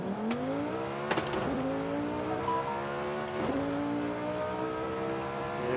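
Lamborghini Huracan STO engine in Forza Horizon 5, driven with a Logitech G920 wheel on Xbox Series X, revving steadily through rising and falling gear pulls, with brief tire squeals, loud and continuous with no talk.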